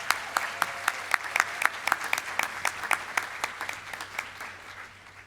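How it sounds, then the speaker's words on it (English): An audience at a Gulf Coast State College graduation ceremony claps in a sparse, distinct rhythm, each clap sharp and separate, gradually thinning and fading toward the end. "please give them a round of applause for the recognition they deserve"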